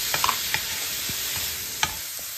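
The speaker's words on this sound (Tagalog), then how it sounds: "Next, igigisa natin ang bawang." Garlic, onion and tomato sautéing in a pan, with a steady soft sizzle and a few sharp clinks of a utensil scraping and stirring, close and alone.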